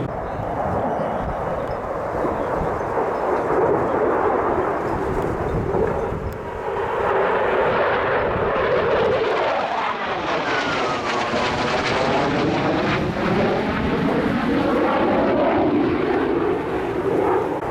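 Cargo aircraft making a fast, accelerating pass at an air show, its engine roar loud and steady throughout and swelling with a sweeping Doppler shift as it passes close by.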